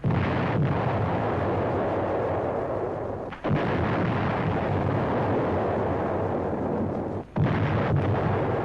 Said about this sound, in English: the 155 lumbers through the jungle, guided by Seabees to the place where it can do the most good, shelling the vital Japanese stronghold